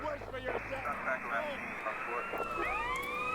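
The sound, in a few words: police car siren in video game GTA San Andreas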